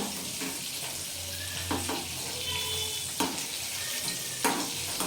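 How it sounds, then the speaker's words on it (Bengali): Chicken fingers frying in hot oil for dinner, a steady broad sizzle that runs the whole time with a few louder pops and crackles, close up and with no talking. "এভাবে আমি এগুলোকে ভেজে নেব"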